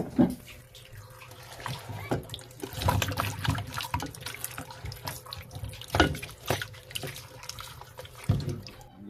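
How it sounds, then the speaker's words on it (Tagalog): Peeled cassava is rinsed under a running tap, with a steady splash of water and irregular handling and sloshing sounds close by throughout. "So, huhugasan na po natin."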